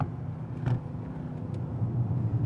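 A Mercedes-AMG S63 engine and exhaust give off a low, steady rumble at moderate distance, fairly quiet and even, with a slight swell toward the end.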